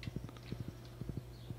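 Horse hooves clip-clop steadily while riding in the Stardew Valley farming game, a brisk repeating pattern of soft hoofbeats in close succession over a quiet music bed.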